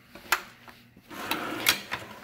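A parts drawer holding nuts and bolts in a student's tool organizer slides open with a few short scraping clacks and a longer rolling rub, close and fairly quiet.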